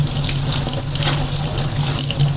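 Cold tap water runs over soaked soybean chunks in a strainer, a steady, loud splashing stream with no pauses.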